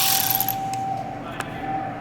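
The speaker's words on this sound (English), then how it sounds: "Now I'm just gonna tighten these bolts up. Grab my little ratchet here." A small ratchet with a 10mm socket tightens tensioner bolts during timing belt work on a Honda Odyssey, a quick run of close, fine clicking followed by a faint tonal ring and a few scattered clicks.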